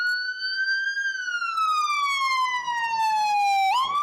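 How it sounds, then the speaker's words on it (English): A single siren wails outside, loud and tonal, its pitch sliding slowly downward as it passes, then jumping back up near the end. "More sirens."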